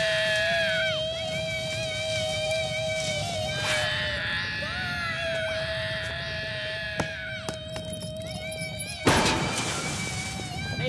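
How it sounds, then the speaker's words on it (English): Cartoon group of kids screaming "doy to the world" as loudly as they can, a long strained chorus of high sustained voices with pitch bends, ending in a sharp crash-like burst near the end. "Can you guys scream doy to the world as loud as you possibly can"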